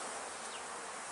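Honeybees from a newly installed package swarm around the hive box, a continuous faint buzzing hum with no pauses over a short stretch.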